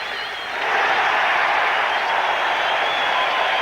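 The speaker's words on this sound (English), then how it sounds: "This crowd's wild here." Crowd in a baseball stadium roars after a strikeout at a 1984 Astros–Mets game, a loud, sustained cheer and applause that swells within the first second and holds steady.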